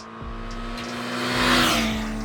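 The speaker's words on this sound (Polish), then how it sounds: "Dźwięk, który wydaje się z silnika i z oryginalnego wydechu zaczyna też nas informować o tym, że u, coś zaczyna się dziać" Honda CBF 600N motorcycle engine revving through its original exhaust, a close, steady rising tone that climbs in pitch and loudness, peaks, then eases slightly as the revs settle.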